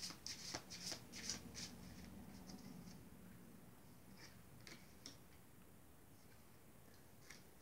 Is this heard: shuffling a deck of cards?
yes